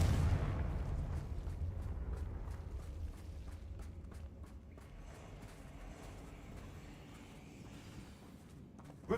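A fiery Confringo spell explosion in Hogwarts Legacy opens with a heavy low boom that rolls into a long, fading rumble, with faint crackles scattered through the decay.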